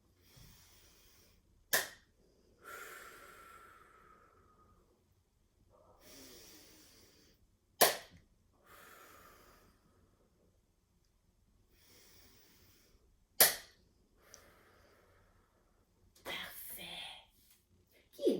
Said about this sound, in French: On tape des mains, on expire.